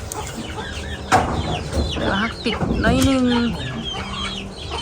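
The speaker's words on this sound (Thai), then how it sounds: "นี่ก็เป็นไก่เขาเลี้ยงเก่า" Farm chickens cluck and squawk close by in a rural Lao setting, several birds calling in irregular bursts, with a person talking softly among them.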